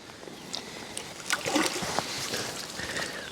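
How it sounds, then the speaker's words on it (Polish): A carp caught on a feeder rig at a Polish fishing lake is let back into the water, giving a few close splashes and sloshes that build toward the middle, followed by softer trickling. "ładna rybka, zaraz wraca do wody"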